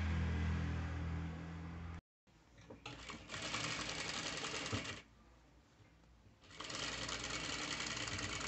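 A sewing machine stitches a seam in fast, loud bursts of whirring, with a short pause midway and a quieter stretch before it runs again.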